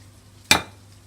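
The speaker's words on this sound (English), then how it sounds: "I'm going to get a little bowl and I'm going to break, for me, I'm happy to do 3 eggs in this." A single sharp crack of an egg struck against a little bowl, one close bright tap with a quick decay in a quiet kitchen.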